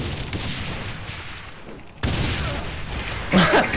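Grenades detonating in the open-world action game Saints Row The Third, a loud burst of blasts and crackling gunfire-like pops, a sudden heavy boom midway and another sharp crash near the end.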